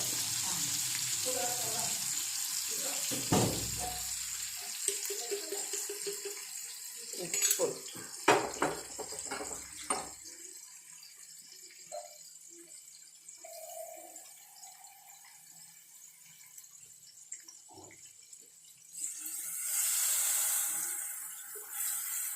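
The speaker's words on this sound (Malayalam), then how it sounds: "വെള്ളം ആവശ്യത്തിന് നമ്മുടെ ചാറിന് ആവശ്യമുള്ള വെള്ളം" Kitchen sounds as water goes into a fish curry: clattering and sizzling give way to quieter stretches with voices talking, then a sustained rushing pour near the end.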